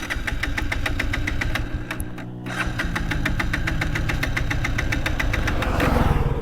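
A Bajaj Pulsar 180 motorcycle engine starts up and runs at idle nearby, a steady rapid thumping beat that falters briefly, then picks up again evenly and rises slightly at the end.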